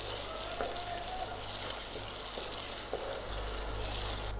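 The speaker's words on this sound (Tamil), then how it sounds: "தக்காளி சேர்த்துட்டு 2 நிமிஷம் நல்லா எண்ணெயில் வதக்கிட்டோங்க." Tomatoes sauté in oil in a pan, producing a continuous close hiss and bubbling sizzle with a few faint stirring clicks.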